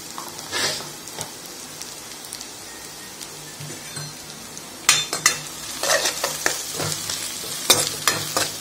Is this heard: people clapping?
no